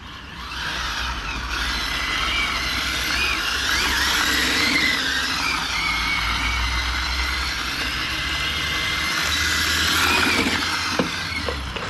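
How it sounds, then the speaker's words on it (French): A moped engine in sixth gear holds a high, buzzing rev near the mic for the full stretch, with small rises and dips in pitch, loud and steady, with no talking. "En 6, ça fume vite le moteur."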